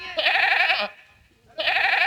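Sheep bleating, two loud, close, wavering bleats separated by a short pause, heard alone.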